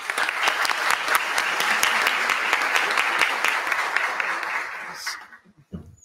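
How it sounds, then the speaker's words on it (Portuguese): A crowd claps steadily at a military law symposium, dense and fairly close, holding an even level for about five seconds before dying away, with a couple of faint stray claps after. "Uma salva de palmas."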